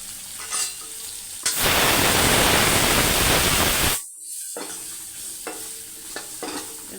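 Spices for a tempering, with turmeric powder, sambar masala and chilli masala, hit hot oil in a pan: a sudden loud sizzle bursts in and roars for about two and a half seconds, then cuts off, leaving faint stirring scrapes and clinks.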